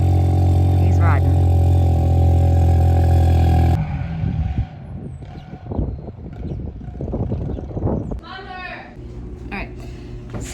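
A four-wheeler ATV engine drones loudly and steadily nearby for several seconds, then cuts to a rougher, quieter mix of engine rumble and scattered clattering noise as it is ridden.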